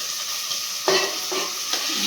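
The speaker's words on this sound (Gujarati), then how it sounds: "પાછું હલાવી દીધું" A spoon stirs drumstick and brinjal in a pan over the heat, with a few distinct scraping strokes over a steady frying sizzle and no talking.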